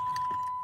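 Car keys jangle briefly up close, with a quick couple of light metallic rattles.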